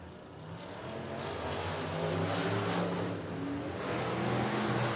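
IMCA Modified race cars running hot laps at Sunset Speedway, engines revving and droning as they pass at a distance, rising and falling in waves with no talk.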